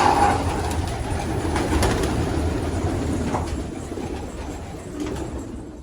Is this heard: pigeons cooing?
yes